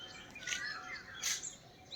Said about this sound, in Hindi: ये देखें चिड़ियों की चहचहाहट